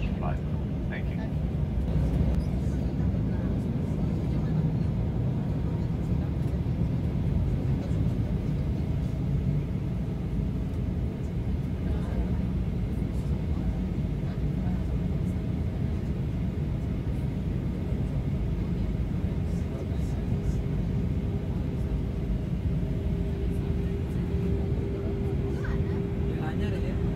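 A Batik Air airliner taxis toward its parking stand on a first flight while water cannons spray it, giving a steady low rumble of engines and continuous hissing wash throughout, with no one speaking.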